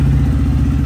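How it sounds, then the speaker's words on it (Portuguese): A Honda Fan 160 motorcycle engine idles with a steady, close, loud low throb and even rhythmic pulses, running alone without talk. "Vou funcionar a moto aqui pra vocês verem"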